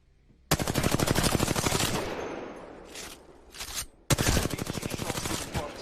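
Video game gunfire rattles out in two long, loud automatic bursts, split by a short lull with a softer scrape before the second burst starts.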